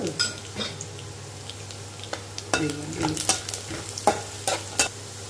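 Mustard seeds with cashews and peanuts in hot oil, a low constant sizzle broken by irregular sharp pops and crackles, with spoon stirring scrapes against the pan.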